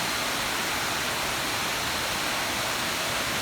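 Palaypay Falls, a waterfall in Pamplona, Negros Oriental, roars as a steady, dense rush of broadband water noise, close and unbroken throughout with no voices.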